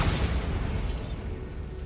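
A Bombarda spell explosion in Hogwarts Legacy: a loud, dense blast that fills the whole clip, rumbling heavily and thinning slightly as it fades, with no one talking.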